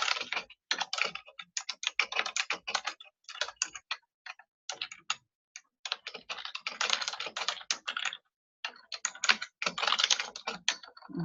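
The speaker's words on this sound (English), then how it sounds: "I have a noisy keyboard. I apologize." Rapid, uneven typing on a noisy computer keyboard, with bursts of close, crisp key clicks broken by short pauses, heard alone without talk.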